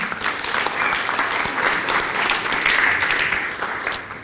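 A round of applause honors John at a retired Americans' alliance event in Rhode Island, a roomful of hands clapping steadily and strongly before fading slightly at the close.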